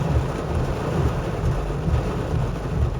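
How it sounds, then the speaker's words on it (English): Heavy rain pours steadily and loudly on a car during a long drive, a dense continuous wash of noise with low road rumble beneath and no voices. "we had multiple stretches of heavy rain"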